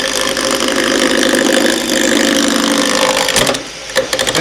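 Steady whirring drone of a machinist lathe, a Putnam copy, turning a wooden cane, running close and loud and continuous before briefly dipping near the end.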